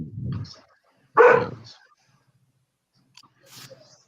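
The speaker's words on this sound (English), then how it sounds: "Goddamn dogs." Dogs bark in a home during a talk show recording, a couple of short, close barks separated by silence, with a faint later yip and voices nearby.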